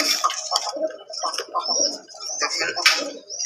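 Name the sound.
fancy pigeon cooing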